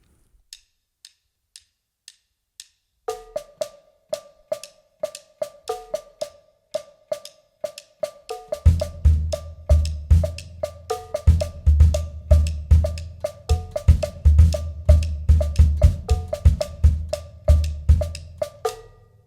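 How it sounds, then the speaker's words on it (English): Steady clicking ticks play alone at first, then a bright metallic foot-played cowbell marking beat one of each bar joins in, and finally a full drum kit kicks in with deep, punchy hits in a 5/4 groove. "I have another cowbell right next to my right foot. And I play beat number 1 of each 5/4 bar"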